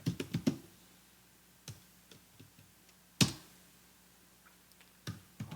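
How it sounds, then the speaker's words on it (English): Sparse keystrokes on a computer keyboard as a Linux command is entered, a few quick clicks at the start, then isolated taps and one sharp louder key strike, close and quiet with long pauses between. "So let's type in host name."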